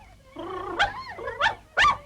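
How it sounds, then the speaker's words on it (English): A cartoon dog gives a whimpering, yipping run that ends in three sharp barks, close and fairly loud, with no talk over it. "What a stupid dog you are"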